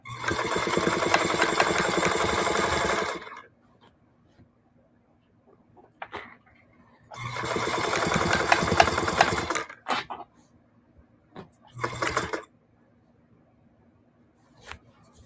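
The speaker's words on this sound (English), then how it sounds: "So what I'm doing is just putting some detail stitching around the edge." A sewing machine runs detail stitching along the edge of an upcycled denim jeans bag with leather trim, loud close bursts of steady whirring in three runs of about three, three and one seconds, separated by quiet pauses and small clicks.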